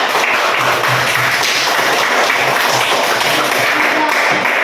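Classroom applause for a student, a steady wash of many hands clapping at once, fairly loud and continuous with no talk over it.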